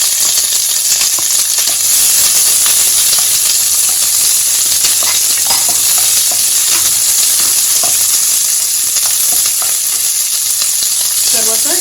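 Green chillies and onions fry loudly in hot oil for pudina chutney, giving a dense, steady, close-up sizzle and crackle that holds unbroken for the whole stretch.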